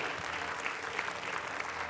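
Studio audience on the Indonesian comedy show Indonesia Lawak Klub applauds, a close, continuous crackle of many hands clapping with a faint murmur of voices beneath.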